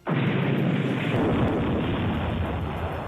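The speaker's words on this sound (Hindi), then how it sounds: "यूक्रेन की तरफ से जारी इस वीडियो में एक के बाद एक कम से कम 10 गोले दागे गए" Artillery shells exploding on a Russian BMP-1 armored vehicle in Ukraine war footage produce a loud, sustained, rumbling blast roar that starts abruptly and holds steady for about three seconds.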